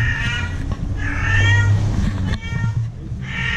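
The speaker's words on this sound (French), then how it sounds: "C'est mon chat." A pet cat meows repeatedly in a string of close, drawn-out cries with short pauses between them, heard alone without talk, somewhere in Bangkok, Thailand.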